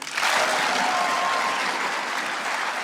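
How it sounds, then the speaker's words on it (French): A large arena crowd at a professional volleyball final claps as hard as it can on a count of three, a sudden dense wall of applause that swells in quickly and holds steady, loud and close. "vous sortez vos mains le plus haut possible et vous applaudissez à 3 le plus fort possible"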